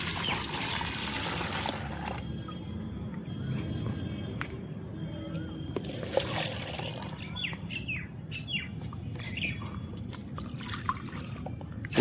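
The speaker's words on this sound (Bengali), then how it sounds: "এবার এটাকে আমি কি করব, এক জায়গায় কিন্তু ঢেলে মিক্সড করব।" Rice-soaked water is poured into a container to mix a homemade liquid fertilizer for a money plant. Two short splashing pours stand out at the start and the middle, with birds chirping softly in the background.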